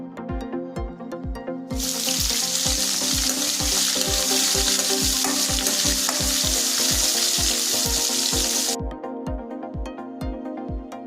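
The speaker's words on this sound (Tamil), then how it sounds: "வெங்காயம் நல்லா பொன்னிறமாக வர வரைக்கும் நல்லா வதக்கிக்கணும்." Chopped onions frying in a pan for tomato kurma give a loud, steady sizzle with the rhythmic knock of a spoon stirring throughout. The hiss swells sharply for several seconds in the middle, then drops back to quieter frying.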